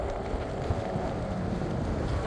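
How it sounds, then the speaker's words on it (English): Strong wind roars and buffets continuously while riding an electric bike on a cold day, a loud rushing noise filling the whole moment. "It's windy."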